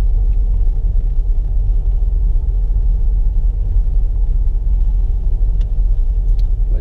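A car driving slowly over a bumpy historic brick road produces a loud, steady low rumble from inside the cabin, with faint rattles and no talking.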